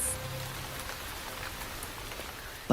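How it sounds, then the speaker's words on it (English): Rain falls steadily in Luangwa Valley, with a dense, even patter of drops on the ground and foliage and no voices. "The rains are welcomed by most animals,"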